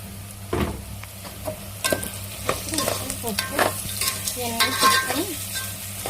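Gongura curry with dried prawns sizzles in a pan while a spoon stirs it village-style, with scattered scraping knocks and soft frying crackle, close and without speech.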